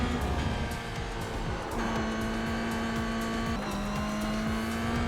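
Simulated Ferrari GT3 race car at Spa in iRacing, its engine steadily loud and revving through the gears, with two clear upshift drops as it accelerates along the circuit; no voices.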